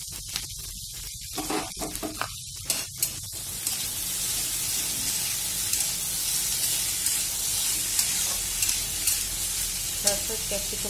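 Potatoes drop into a hot pan and fry with a continuous bright sizzle and hiss, close up, with light stirring clatter over it.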